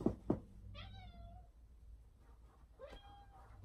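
A cat meows twice, faint and a little distant, in a quiet room, with a couple of soft knocks at the start.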